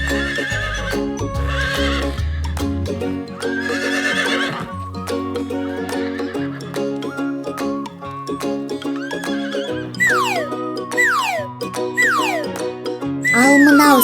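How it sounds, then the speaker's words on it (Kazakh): A horse whinnies loudly several times in repeated rising and falling calls, close and clear, with hooves clip-clopping between the neighs and no talk. "Жылқы."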